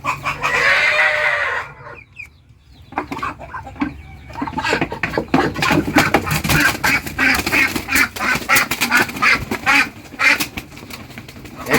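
A Muscovy mother duck is grabbed in the dark, starting with a loud hissing, flapping struggle, then rapid scuffling and agitated calls continuing close by.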